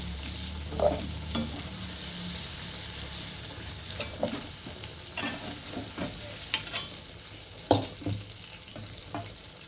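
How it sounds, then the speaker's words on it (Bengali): Potatoes being lightly stir-fried in oil in a wok, with a soft background sizzle and a series of distinct spatula clinks and scrapes against the pan at an uneven pace. "এই রকম অবস্থায় আলুগুলো জাস্ট একটু হালকা ভাজা হয়েছে"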